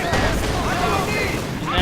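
Artillery barrage in the real-time strategy game Company of Heroes 2, a continuous rumbling wash of booming impacts and gunfire over about two seconds, with a caster's voice talking throughout.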